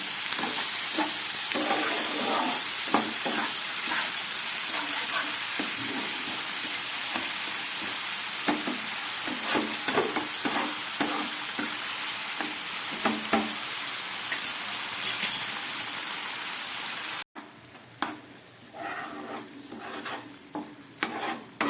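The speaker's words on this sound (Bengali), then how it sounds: "গ্যাসটা একদম কম করে কষাচ্ছি।" Chilli, tomato and spice masala for tel koi fish is stir-fried on very low gas with a splash of water, giving a continuous close sizzle with repeated scraping strokes of the spatula against the pan.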